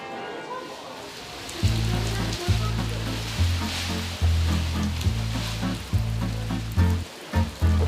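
A rain shower pours down outdoors in a steady, hissing patter, with a low droning hum running underneath.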